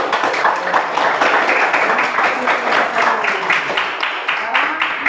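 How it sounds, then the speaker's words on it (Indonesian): A classroom of students applauds group 1 after a presentation in an electricity-saving lesson, a steady crowd of clapping hands sustained for several seconds with voices mixed in. "kita beri aplaus untuk kelompok 1"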